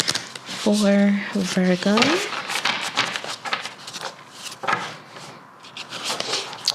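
Tarot cards being shuffled by hand, a few quick riffling and rubbing bursts close up, interleaved with someone speaking.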